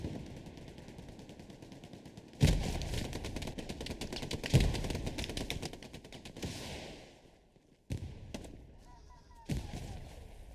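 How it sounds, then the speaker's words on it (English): Grenade blasts and rapid gunfire in the Hell Let Loose video game, a steady rattle of shots broken by two loud thumping explosions and later sharp bursts, heard over a distant battle din. "Nade spam continues here."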